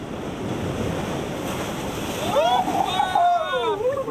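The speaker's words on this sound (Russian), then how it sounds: "Ночевки на пляже под шум волн" Ocean waves wash onto a beach on a tropical shore, a continuous broad rush of surf and wind, with a tonal whine rising faintly over it toward the end.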